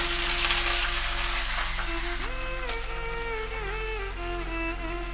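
Curry leaves and green chilies crackle and sizzle steadily in hot oil in a pan, a close continuous frying hiss with a tonal hum underneath.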